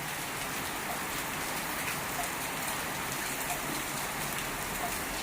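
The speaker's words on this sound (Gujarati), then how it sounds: "સતત ધીમી ધીમી ધારે વરસતો વરસાદ" Steady light rain falls without a break, a dense even hiss of drops pattering on surfaces including a metal sheet roof, fairly close, with no voices.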